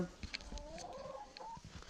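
Hens in a henhouse in winter give short, soft clucks in quick succession, close and fairly quiet, with no other sounds.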